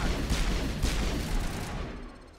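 Long-range turrets fire in Mass Effect, giving a couple of heavy, booming blasts in quick succession that then fade into a rumbling tail.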